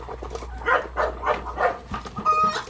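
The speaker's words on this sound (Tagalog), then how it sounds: "Tahol ng tahol." A dog barks angrily at Muscovy ducks in a series of repeated, fairly close barks at an even pace, with low rural background hum and no talking.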